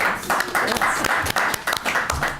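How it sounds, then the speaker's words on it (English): Scattered clapping from a small group at a town selectmen meeting, a few close, uneven hand claps in short irregular bursts for a couple of seconds. "Very few people get claps like that afterwards"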